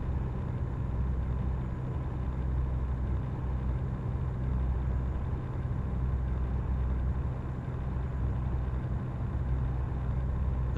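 A heavy truck engine drones steadily and continuously in American Truck Simulator, a low, even rumble that holds for the whole stretch with no talk.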